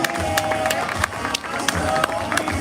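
An outdoor Main Street audience applauds public works staff, a lively patter of clapping with scattered sharper claps while a voice carries on over it.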